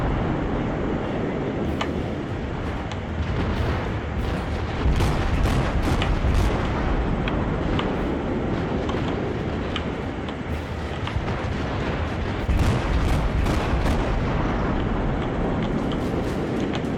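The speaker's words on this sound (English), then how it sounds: "Again, withering gunfire coming in on this guy," Naval gunfire in the World of Warships game, a continuous heavy rumble of distant cannon blasts and explosions rolling over one another, loud and unbroken, with no speech.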